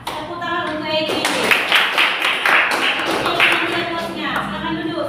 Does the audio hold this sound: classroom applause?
yes